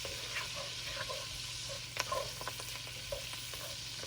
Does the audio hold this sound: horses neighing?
no